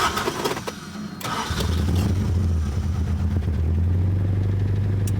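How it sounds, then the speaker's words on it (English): A 1975 Toyota Corolla KE35 engine cranks briefly, then catches and settles into a steady, loud, close idle with a low rumble; the starter is noted as busted and the exhaust as blown. "I've got to start it up a few times to see if I can get it to run as it should."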